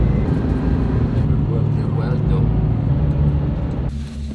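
A car drives along with a steady, loud engine and road rumble that carries on throughout, then eases off near the end.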